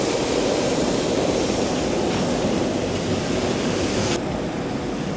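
Steady loud engine roar heard from inside an airplane with a rear ramp, a constant broadband drone with a high whine that cuts out near the end.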